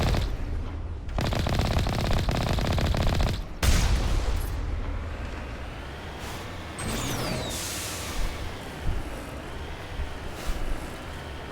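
Sustained automatic turret fire and rocket barrage roar in the Mass Effect game, dense loud bursts of rapid shots followed by rumbling explosions, a whistling projectile and scattered later impacts, with no talking.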